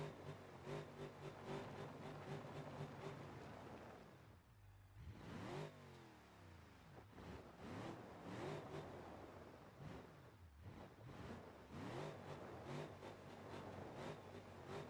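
A car engine in the driving simulator BeamNG.drive revs hard, again and again, while the car is beached and stuck without traction on a crawl course. The loud, sustained revving rises and falls in waves, with a brief dip partway through.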